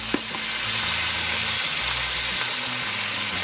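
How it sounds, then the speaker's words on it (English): Steak and vegetables sizzle and crackle in a hot wok, a steady frying hiss with a few soft clinks of stirring and no one speaking. "that sizzling pan of fajitas that comes to your table"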